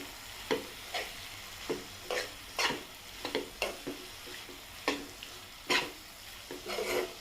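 Okra is stirred into a yogurt mixture in a pan, making a regular series of close scraping strokes over a quiet background sizzle.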